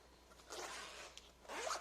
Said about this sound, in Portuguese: agora eu vou destacar esse zíper